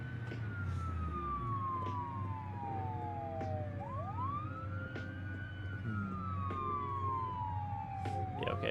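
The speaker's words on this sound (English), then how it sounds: "police would just randomly put on the sirens and follow a random AI car" Police sirens wail from vehicles in the BeamNG driving game, two rising and falling tones sweeping and overlapping at a moderate distance over a low background rumble of traffic.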